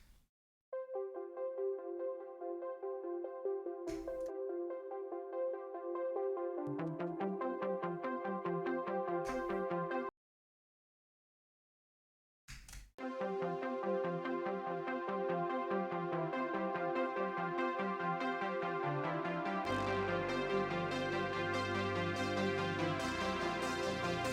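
Synthesized bass line from the Serum software synthesizer with bright buzzy tones, played in repeated patterns, dropping out briefly midway before returning with a deeper low-end layer.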